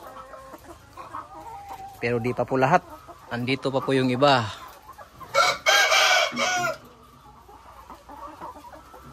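Layer chickens in a layer building with damaged cages cluck and squawk loudly in bursts, with a rooster-like crow among them, while someone talks over the flock.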